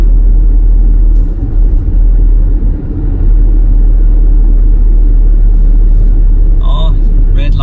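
Steady low engine rumble of a car cruising in fourth gear at about 50 km/h through German city streets, heard from inside the cabin with voices talking over it.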